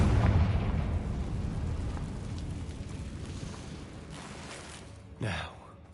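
Fiery Confringo blast spell from Hogwarts Legacy, a loud rumbling burst that fills the opening moments, decays steadily, then a sharp second flare of sound lands near the end.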